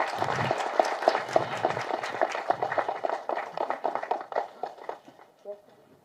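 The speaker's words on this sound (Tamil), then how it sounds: "ஒரு பெரிய கைத்தட்டல் கொடுத்துடலாம்." An award-function audience at a Tamil Nadu film festival claps for actor Sivakumar in dense, fairly loud applause that tapers off over several seconds, with talking mixed in.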